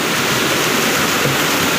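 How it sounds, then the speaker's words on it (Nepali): Floodwater rushes down a road in heavy rain during landslides in Majua, Sikkim, a loud, dense, unbroken roar with no voices. "अर्का घरतिर पस्नु थाल्यो पानी"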